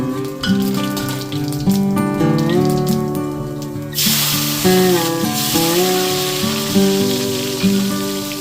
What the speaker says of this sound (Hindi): उसके बाद मैंने छौंकी है आलू की सब्जी।